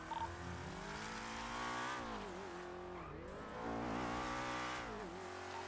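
A car engine in a roleplay driving game drones steadily, revving up and down with rising and falling pitch and a hint of tire squeal, continuous and fairly quiet with no talking.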